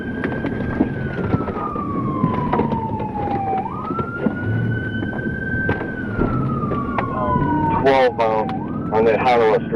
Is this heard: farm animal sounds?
no